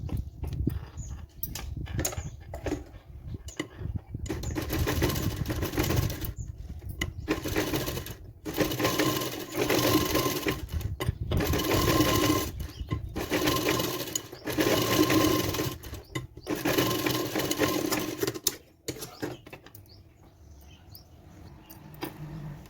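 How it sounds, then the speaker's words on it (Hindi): A sewing machine stitches around blouse fabric in fast rattling runs with short pauses between them, close and loud throughout, then slows to quieter stitching near the end. "इसके चारों तरफ हम एक सिलाई लगा लेंगे"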